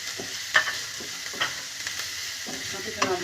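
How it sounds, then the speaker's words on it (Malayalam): Ingredients sizzle softly in a pan while a spoon stirs them, giving a few scraping knocks over a low steady frying hiss, close by and with no voice. "ഇത് നന്നായിട്ട് വാടുന്ന വരെ ഇളക്കി കൊടുക്കുക."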